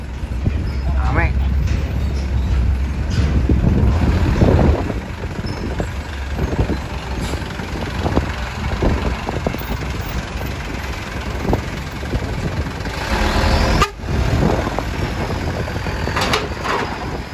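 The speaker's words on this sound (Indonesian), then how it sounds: "Ada truk Sultan." Trucks rumble past at Merak port, heavy engines and a hiss of air brakes mixing with gusty wind and harbour bustle while people talk nearby throughout.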